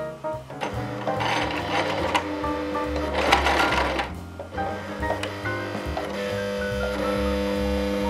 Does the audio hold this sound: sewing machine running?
yes